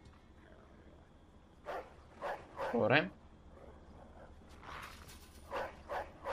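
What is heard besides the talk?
dog barking in the video game Mafia II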